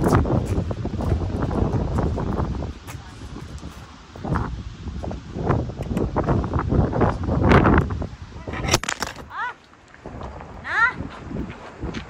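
Gusty wind blowing outdoors in the UK, a continuous broadband rush that swells and drops in loud buffeting waves across the clip, with bursts of mic-rumbling and brief rustling, and no talk over it.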